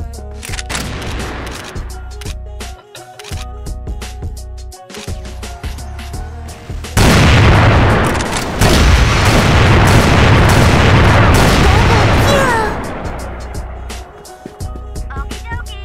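Rapid bursts of gunfire in the video game CrossFire crackle throughout, with a dense stretch of loud shots and explosions in the middle before sparse shooting returns.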